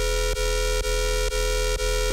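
A synthesized bass with drive at 13 and fat at 20% drones steady and loud, with a buzzing, harmonically dense tone broken by four evenly spaced brief dips.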